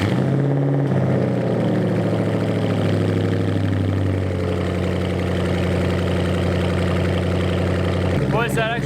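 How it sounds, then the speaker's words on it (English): Car engine on an SLP Loudmouth axle-back exhaust with no mufflers starting up and settling into a steady, loud, rumbling idle, with a brief burst of higher noise near the end. "The only thing left to do now is to start it up and see how it sounds."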